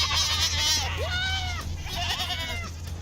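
Goats bleat repeatedly and loudly at close range on a goat milk farm in Scottsburg, southern Indiana, with several overlapping calls over steady background noise.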